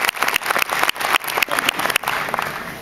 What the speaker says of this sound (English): So everyone, please join me in giving a round of applause to our friends and family.